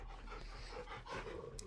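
Torgal, the dog companion in Final Fantasy XVI, pants in quick, steady breaths, faint and close against a soft game background, with no talking.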